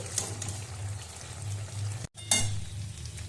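Chicken sizzles loudly in hot ghee mixed with oil while being sautéed for chicken polao, a continuous crackling fry with stirring scrapes and a brief break midway before the sizzle resumes.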